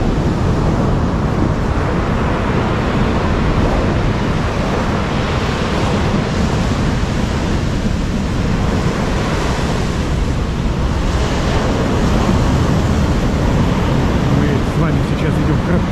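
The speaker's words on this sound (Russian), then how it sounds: "Волна большая набегает," Storm waves break heavily on a pebble beach at Alushta during a late-autumn Black Sea storm, a loud continuous roar and wash of surf with strong wind buffeting the microphone throughout.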